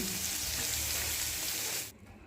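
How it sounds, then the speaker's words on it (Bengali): Chopped onion frying in a pan for a village-style Malabar spinach dish, a steady loud hiss and sizzle that holds for about two seconds, then cuts off abruptly. "একটি মাঝারি সাইজের পেঁয়াজ কুচি দিয়ে দিলাম দিয়ে পেঁয়াজটাকেও কিছুক্ষণ ধরে ভেজে নিচ্ছি"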